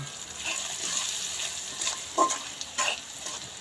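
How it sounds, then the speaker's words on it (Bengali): Prawns and fried lentil vadi being stirred in a pan with turmeric, coriander and chili powder, a steady sizzle with a few louder scraping stirs near the end. "দিয়ে এখন হালকা নাড়াচাড়া হইব।"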